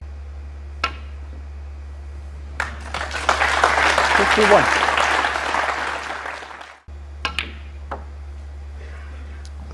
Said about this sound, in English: Very appreciative crowd.